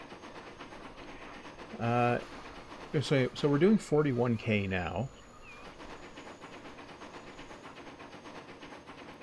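A train in the video game Transport Fever 2 runs with a steady, low rumble and hiss while someone talks briefly over it, the train noise continuing alone afterward.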